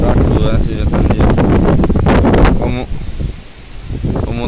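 Strong wind gusting outdoors during rain at a reservoir, a loud, rough roar buffeting the microphone with rustling, easing briefly before picking up again.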